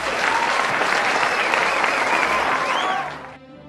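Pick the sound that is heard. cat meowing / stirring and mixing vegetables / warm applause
warm applause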